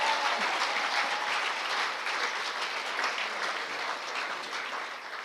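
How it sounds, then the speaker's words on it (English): Audience applause at a tenth-anniversary celebration in Scotland, a steady, moderately loud round of many hands clapping that holds evenly and eases off slightly near the end, without talking. "That deserves an even bigger round of applause"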